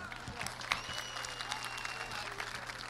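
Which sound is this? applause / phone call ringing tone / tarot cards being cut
applause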